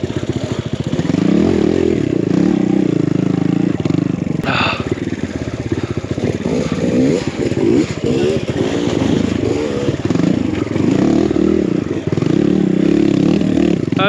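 Engine of a BBR KLX170RF dirt bike revving and labouring close up along a rough single-track enduro trail, with a steady motor drone, clattering and scraping over obstacles, and excited voices talking over the riding.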